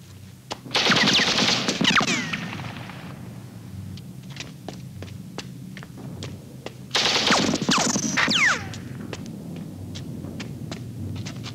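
Machine gun fire in a 1989 Stalingrad war film battle: two long, loud bursts of rapid automatic shots, with scattered single gunshots and a steady rumble between them.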